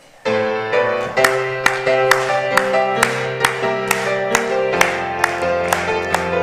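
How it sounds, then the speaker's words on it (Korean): A congregation claps in time while singing a hymn at a special New Year dawn prayer service in a church, with bright, regular claps roughly every half second over sustained keyboard chords and voices. "우리 실로암 찬양을 힘차게 박수하면서 찬양 한번 하겠습니다."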